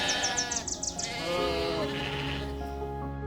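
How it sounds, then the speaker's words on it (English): Sheep in Irish fields bleat several times in quick succession, then one longer, wavering bleat follows, close and fairly loud over a low rumble of wind. "flocks of sheep graze leisurely beside hand-built stone walls"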